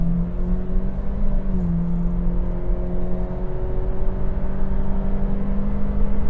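A 2025 Acura ADX accelerating hard toward 60 mph, heard from inside as a steady engine drone with rising tonal whine and road rumble, continuous and fairly loud.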